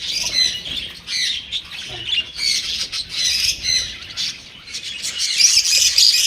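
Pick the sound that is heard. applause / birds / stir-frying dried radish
birds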